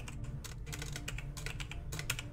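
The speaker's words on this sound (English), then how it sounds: "I'm really good at typing, guys." Rapid, close clatter of keys on a computer keyboard, irregular bursts of typing with no talk.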